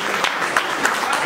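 Brief, loud burst of crowd applause during a leaders' training session, a dense rush of clapping lasting only about a second.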